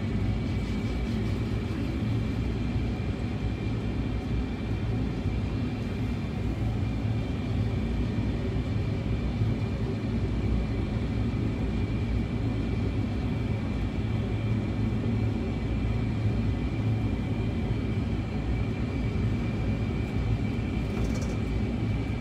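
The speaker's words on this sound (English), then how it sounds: "Flight round London with Concorde on the simulator here at Brooklands." A Concorde flight simulator at Brooklands Museum gives off a constant, loud jet-engine roar and rumble for a simulated flight around London. It is steady and unbroken throughout, with no speech.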